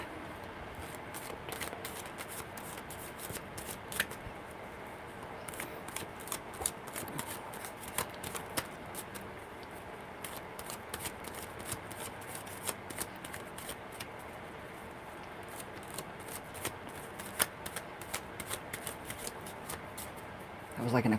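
Tarot cards being shuffled for a live one-card reading, a long run of rapid, rhythmic riffling and flicking at close range under intermittent talk.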